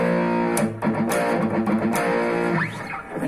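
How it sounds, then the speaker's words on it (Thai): A Bugera G20 Infinium guitar amplifier playing a distorted tone: dense, buzzing sustained chords that change a few times and then fade near the end, loud and close with no talking. "อันนี้มาเสียงแตกมานะครับผม"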